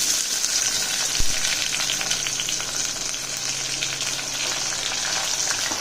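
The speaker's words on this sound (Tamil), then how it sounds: "வெங்காயம் வதங்கட்டும்." Onions sautéing in hot oil in a pan for a Tamil brinjal and chickpea kara kuzhambu, a steady close broadband sizzle with a single brief knock partway through, no voices.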